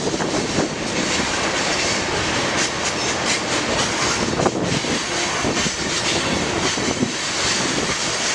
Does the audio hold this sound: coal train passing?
yes